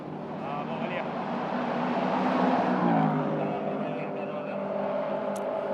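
TP2000 class touring car in the Malaysia Touring Car Championship races past the finish line, a loud engine roar swelling and fading over crowd noise and a commentator's voice.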